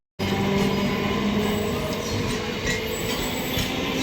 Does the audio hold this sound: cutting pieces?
no